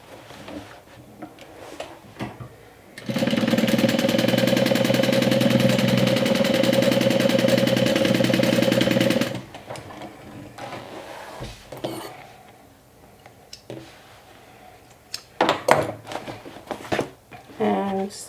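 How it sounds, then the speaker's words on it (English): A sewing machine runs a straight seam with a half-inch allowance across a swim tote, its motor whirring steadily for about six seconds before stopping, followed by soft fabric handling and small taps. "So you're gonna sew across here with a 1/2 inch seam allowance."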